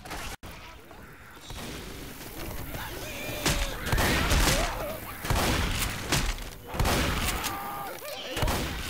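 Shotgun blasts from Left 4 Dead, a string of loud booming shots fired in uneven bursts with chaotic game noise around them, while players talk over the action.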